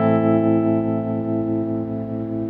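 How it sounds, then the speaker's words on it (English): A sustained, distorted electric guitar chord with a touch of tremolo rings steadily with a gentle wavering pulse, loud and close, fading slightly toward the end. "for the rhythm guitar part is actually a touch of tremolo going on here"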